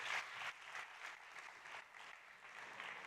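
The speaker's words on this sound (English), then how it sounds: "A big round of applause." A startup competition audience claps after a pitch, a fairly quiet, distant-sounding patter of many hands that carries on evenly for a few seconds.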